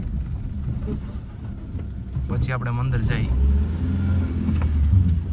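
Car engine rumbling low and steady while parking near a dam in a Gir village, with a brief rising whine midway as someone talks over it.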